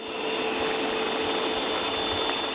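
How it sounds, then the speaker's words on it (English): A Roborock S8 MaxV Ultra robot vacuum running at max suction, a steady, fairly quiet whirring hum with a faint high whine, constant throughout with no talk. "the max suction is much more quiet than I expected."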